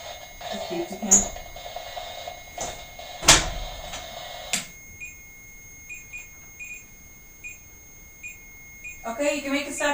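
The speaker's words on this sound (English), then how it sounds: "Okay, you can make it stop beeping now." An electronic device in an old mansion gives repeated high, thin beeps, some single and some in quick runs, against a quiet room with occasional knocks and soft voices.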